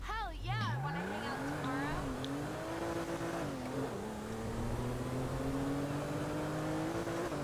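An Audi A4 2010 in GTA 5, driven in manual on a steering wheel, revs its engine hard, with the pitch climbing, dipping and climbing again and a tire squeal near the start.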